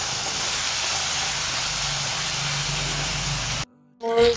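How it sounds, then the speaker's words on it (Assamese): Onions fry in a pan with a loud, steady broadband sizzle that hisses evenly for several seconds. It then cuts off abruptly, and a brief faint rustle follows. "পিঁয়াজখিনি ভাজি লৈ আছোঁ"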